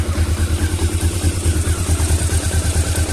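Honda CB-500 motorcycle engine idling steadily up close, a loud continuous low rumble with rhythmic pulsing and some mechanical clatter, no voices.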